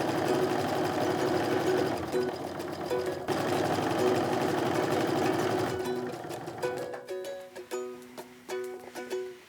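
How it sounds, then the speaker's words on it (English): A sewing machine stitches quilt pieces together with a quarter-inch seam, running in a fast steady rattling whir, then slowing into short stop-start bursts of individual clicking stitches. "I'm going to sew these together using still a skate 1/4 inch seam"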